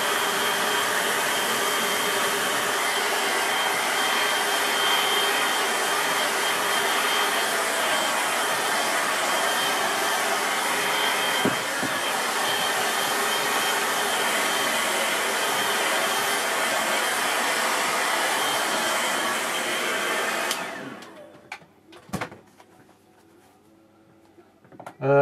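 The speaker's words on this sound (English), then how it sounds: "you can even paint with your air dryer if you want, just to give it a bit of texture" A hair dryer blows steadily on a watercolour painting of a lake landscape, a loud continuous whooshing drone that runs for about twenty seconds. It then cuts off, leaving a few soft clicks and near silence.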